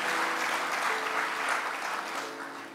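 A church congregation claps together in a steady wash of applause during a worship service, fading slightly toward the end.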